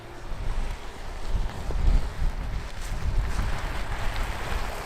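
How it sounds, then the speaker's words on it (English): Cold wind gusts on a rainy street and buffets the microphone with a steady, rumbling roar. No one speaks. "It's windy and rainy and cold."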